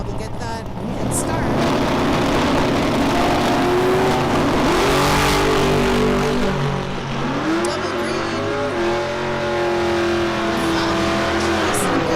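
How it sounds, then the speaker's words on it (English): Diesel drag race cars, including a Ford Falcon, launch and accelerate hard at a diesel shootout, their engines roaring loudly and continuously with rising pitch sweeps, under a track announcer talking. "Dustin in his Falcon Fast, dialed in at 908. Rob at 1076. Rob will get that head start"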